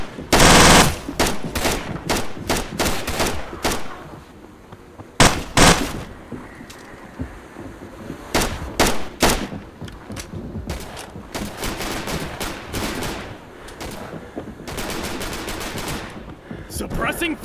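Suppressing machine gun fire in an infantry battle, with loud rapid bursts of automatic gunfire, some close and some distant, repeating over a noisy battlefield background.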